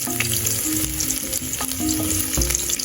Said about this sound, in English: You first put in your onions in the cooking oil. And then you stir.